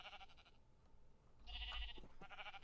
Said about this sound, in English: 3 white sheep. Let's grab a 4th white sheep.